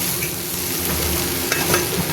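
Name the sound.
french beans sabzi cooking in a pan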